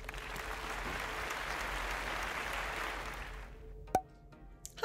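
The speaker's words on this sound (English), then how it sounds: "Let's give ourselves a little round of applause." A small round of applause during an interactive fractions lesson, steady clapping for about three and a half seconds that then stops, leaving a few faint ticks and knocks.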